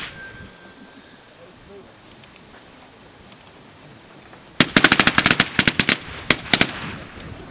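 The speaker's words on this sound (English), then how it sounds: "Grenade is thrown and detonates." A grenade detonating during army training, heard as a sudden burst of sharp cracks and bangs after several quiet seconds of faint ambient noise, with crackling reports continuing to the end.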